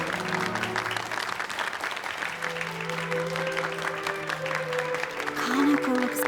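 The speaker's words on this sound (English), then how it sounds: "Give a round of applause to this young and talented singer" A video game audience claps steadily for several seconds for a singer on stage, with a musical tone sounding beneath the applause.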